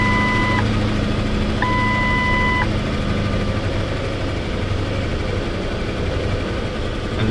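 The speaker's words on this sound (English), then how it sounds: "The car is running, but it's not running well." A Lincoln LS engine idles rough and steady, with low uneven rumbling close by, while a repeating electronic beep chimes a few times early on.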